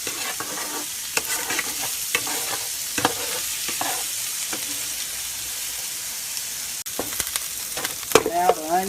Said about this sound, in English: it says to cook the onions for about 5 minutes or 2 translucent